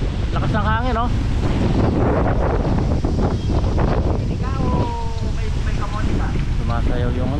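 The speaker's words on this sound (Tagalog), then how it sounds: "Grabe hangin, ang lakas, parang may bagyo." Strong, gusty wind roars across the microphone in an open farm field at dusk. The buffeting is loud and continuous, and people talk over it throughout.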